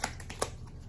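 A deck of affirmation cards being shuffled by hand, a few quick papery riffles and flicks, soft and close in a quiet room.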